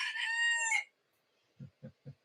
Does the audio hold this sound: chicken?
yes